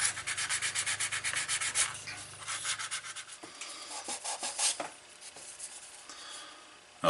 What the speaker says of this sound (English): that first burnish just kind of shows you the places that are going to need work